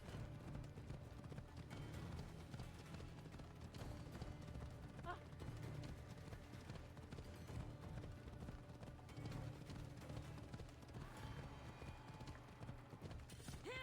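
A horse gallops steadily in the video game Assassin's Creed Odyssey, a continuous rapid drumming of hooves mixed with game music and ambience, holding a constant level throughout.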